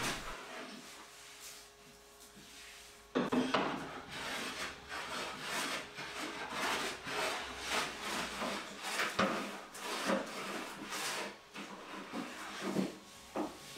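Repeated rasping strokes of a smoothing plane shaving a wooden cutting board, rhythmic scraping passes close by, growing louder after a quiet start.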